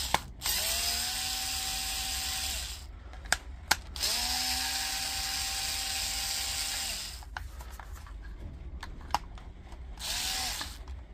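A powered screwdriver backs T10 Torx screws out of a Makita power tool battery pack case: several rising whirring runs separated by pauses, with small clicks and taps between them, close and alone.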